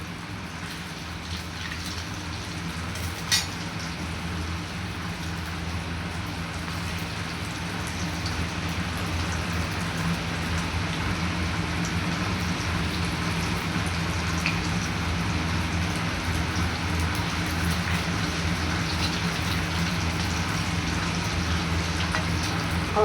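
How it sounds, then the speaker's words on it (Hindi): A kitchen exhaust fan running over a stove while masala chaap cooks, giving a steady, unbroken broadband whoosh that holds at an even level throughout, with no one talking. "तो गाइस एग्जॉस्ट की आवाज़ आ रही होगी आपको"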